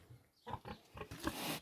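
A pig on a farm gives a run of short, close grunts, about five or six in an uneven rhythm, ending in a longer, louder snort, with no talking.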